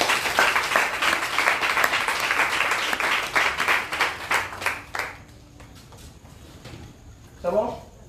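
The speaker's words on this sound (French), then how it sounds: "Acclame Jésus." Audience applause at a French-language religious gathering, dense clapping for about five seconds that fades out, followed by a brief voice over the quieter room.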